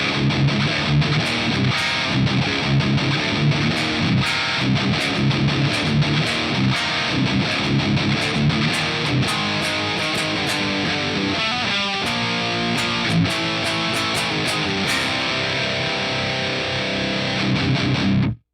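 A distorted electric guitar riff through a Boss GT-1000 plays continuously with a full, crunchy tone and scooped mids, steady and loud throughout before stopping abruptly.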